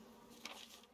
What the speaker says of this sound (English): Fucking bees.